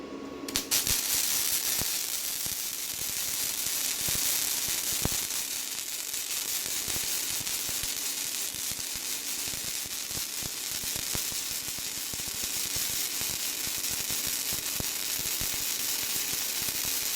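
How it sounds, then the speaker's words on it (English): Stitch welding on a steel winch bumper for a Toyota 4Runner or Tacoma, a steady crackling hiss that fills the whole stretch at close range, with faint sharp ticks scattered through it. "Got to stitch weld it so it don't get too hot"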